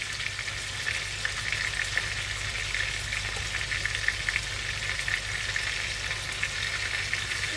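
Tomatoes frying in a pan, giving a steady, dense sizzle at an even level from start to finish, with faint stirring and no voices.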